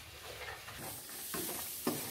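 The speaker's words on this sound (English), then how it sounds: "just make sure that you're stirring everything up, that it's really well coated" Nut clusters being stirred in a hot pan, giving a steady sizzling hiss with soft scraping strokes of the spoon, close up and continuous, no talking.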